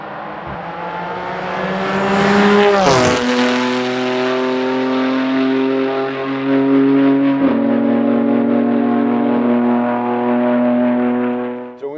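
BimmerWorld BMW M4 GTMore race car driven flat out, its engine loud and close, howling up through the gears with sharp shift drops and a brief blip near the start, sustained for the whole run with no talk.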